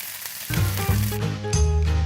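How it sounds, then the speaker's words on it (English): Okra sizzles steadily in hot oil, with a few soft clinks and stirring sounds over the frying. "Frying or sautéing okra in oil minimizes the sliminess and stickiness in this bhindi masala"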